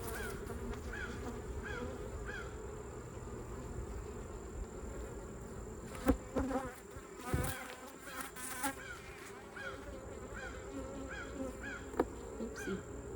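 Honeybees buzzing around an open hive during an inspection, a dense steady drone close by with individual bees whining past, and sharp knocks of a hive tool against a wooden frame partway through.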